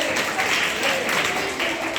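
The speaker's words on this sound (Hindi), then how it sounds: "शाबाश, ताली बजाइए।" Schoolchildren in a classroom clap together for a classmate's correct answer, brisk, continuous applause from a small group heard up close.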